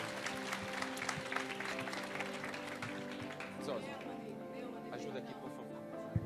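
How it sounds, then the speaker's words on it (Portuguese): Audience applause at a Brazilian civic event on democracy, a crowd clapping steadily throughout with a few sharper claps, over a sustained musical or tonal hum in the room. "Aplausos para ele, gente, por favor."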